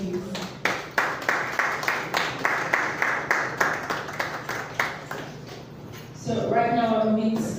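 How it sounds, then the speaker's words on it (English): A seminar audience at a surveyors' network event claps for a speaker in a run of fairly even, close hand claps that fades out, followed by a voice speaking. "A round of applause for you"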